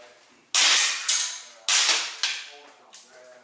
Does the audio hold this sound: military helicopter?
no